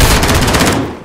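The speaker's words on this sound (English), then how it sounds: "I'm taking fire!" Gunfire in the video game Call of Duty: Warzone, a loud, close, rapid automatic burst of evenly spaced shots that trails off into a fading echo.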